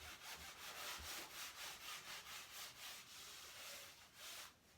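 Cloth rubbing oil paint off a primed canvas to leave a thin stain, a soft, rhythmic scrubbing in steady back-and-forth strokes, quiet and close.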